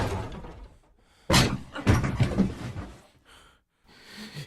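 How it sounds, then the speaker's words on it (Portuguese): A door thuds open and slams in a tense, dark setting: a quiet lead-in, then a sharp loud bang around the midpoint followed by a rattling burst of impacts, fading to near silence with faint rustle. "Eu abri a porta o mais rápido que pude"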